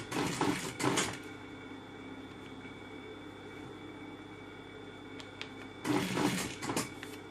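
Sewing machine stitching a metal-tooth zipper into a jacket, two short bursts of rapid mechanical stitching at the start and near the end, close, with a quieter hum between.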